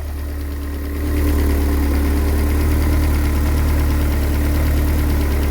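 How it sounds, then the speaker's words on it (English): A Ford Escort RS Turbo engine awaiting a rebuild runs steadily and loud, its idle rising after about a second into a sustained, rough, vibrating rev held to the end, with no talk over it. "if I keep revving it like that, I don't think I'll have an engine left to rebuild"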